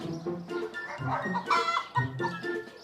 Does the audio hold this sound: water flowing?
no